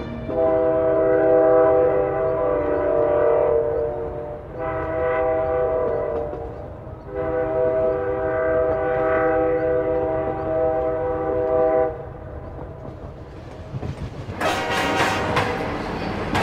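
A train passes with its horn sounding in several long, loud blasts separated by short gaps, over a steady rumble of rolling wheels, ending with bright metallic screeching.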